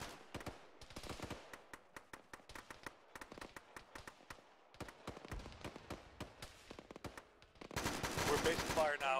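Machine gun fire rakes enemy bunkers in a military shooter: bursts of sharp shots in irregular clusters with short pauses, then a louder, denser volley at the end.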